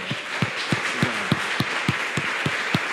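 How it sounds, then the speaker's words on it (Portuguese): A congregation at a Portuguese-language church service claps in a slow, regular rhythm, about ten distinct claps spaced evenly, moderately loud over a soft background of room noise. "Vamos dar uma salva de palmas ao Senhor."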